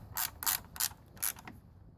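Hand ratchet tightening a screw on the transmission cooler of a 2002 Dodge Caravan 3.3L, four or five short metallic clicking pulls close up, with no voices.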